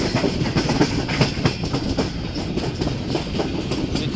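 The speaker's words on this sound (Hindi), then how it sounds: "व्यूअर्स गाड़ी अप्रोच कर रही है समरसट्टा जंक्शन रेलवे स्टेशन पर" A train rolls in toward Samasatta Junction railway station in Pakistan, a loud, continuous rumble with rhythmic clickety-clack of wheels over rail joints throughout.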